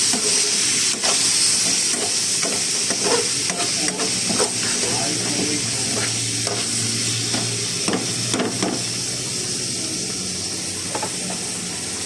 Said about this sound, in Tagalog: kumukulo na yung ating rice.